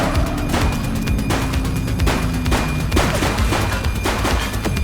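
Rapid gunfire bursts in the police game The Precinct, a dense, loud rattle of repeated shots with booming impacts, nearly continuous across the clip.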